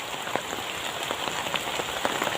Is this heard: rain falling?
yes